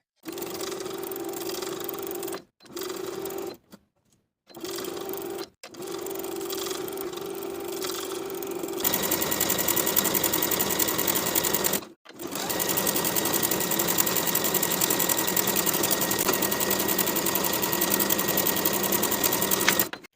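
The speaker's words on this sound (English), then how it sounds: "Sew the short edges and the long gathered edge of the ruffle in place with a 3/8 inch seam allowance" A sewing machine stitches ruffle seams on cotton pajama shorts with a 3/8 inch seam allowance, whirring in a few short bursts separated by pauses and then running steadily and a little louder for a long stretch, with no talking.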